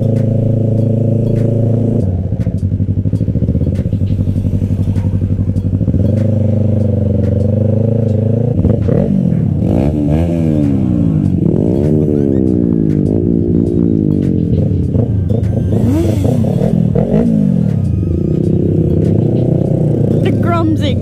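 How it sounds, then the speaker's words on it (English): Honda Grom motorcycles on a mini bike group ride, small engines idling and revving in repeated rising and falling sweeps, loud and close throughout, with people talking over them. "The Grom's exhaust is cute."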